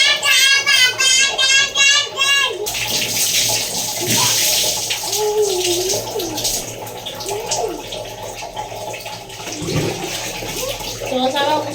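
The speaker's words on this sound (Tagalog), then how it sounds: "Buhusan ko na yung buhok ko." Water is poured over hair during a bath, splashing and gurgling in bursts after a voice at the start, with irregular sloshing pours continuing close by.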